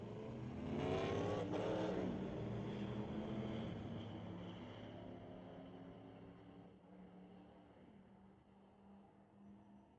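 A GMC pickup truck drag racing down the strip at a street legal night at a raceway, engine roaring loudly as it launches and then fading steadily into the distance, heard alone without talking.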